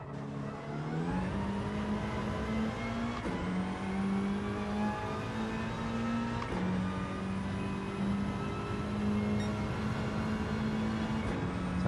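A Volkswagen Scirocco race car in Gran Turismo 7 drones loudly and continuously at close range, its engine note climbing through several rising revs with abrupt drops at each gear change.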